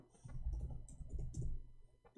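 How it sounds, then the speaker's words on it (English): Fingers tap quickly and irregularly on a computer keyboard, a soft, close patter of keystrokes with short pauses between runs. "Hold on, I'm typing in Arabic."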